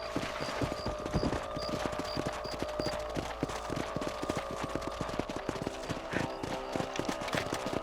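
Horse hooves clip-clop steadily in Red Dead Redemption, a dense, even run of hoofbeats under a constant low rumble of riding, with faint high tones near the start.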